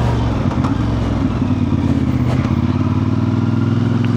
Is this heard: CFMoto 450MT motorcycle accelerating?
yes